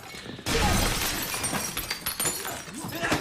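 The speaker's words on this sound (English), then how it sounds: "So much broken glass and damage," Glass shatters in a John Wick movie fight scene: a sudden loud crash, then scattered breaking and tinkling pieces mixed with fight noise and voices.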